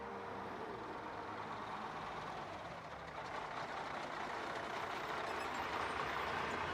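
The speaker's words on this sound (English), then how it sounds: "The humble school bus." A yellow school bus in Kingman, Arizona rumbles with a steady diesel drone that swells slightly louder as it moves, with no voices over it.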